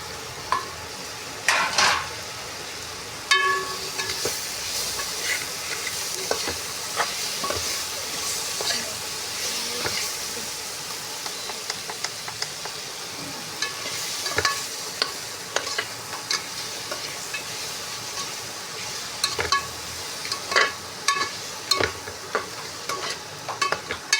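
Carrots for sambar rice fry in a pan while being stirred, a continuous close sizzle broken by repeated scraping and clinking of a spoon against the pan, with no talking.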